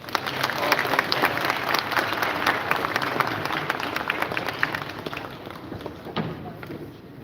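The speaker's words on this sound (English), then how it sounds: "I thought the applause was going to be louder." Audience applause at a parliament awards ceremony, a steady wash of many hands clapping at moderate volume that thins out gradually toward the end.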